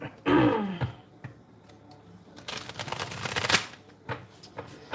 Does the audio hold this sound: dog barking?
no